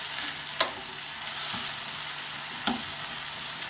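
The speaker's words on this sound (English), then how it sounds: "I can start to smell that onion cooking" Vegetables and onion frying in a pan as they are stirred, giving a steady close sizzle with a few sharp scraping knocks from the utensil against the pan bottom.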